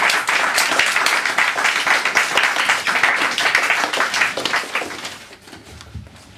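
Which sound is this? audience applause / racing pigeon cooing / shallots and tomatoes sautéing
audience applause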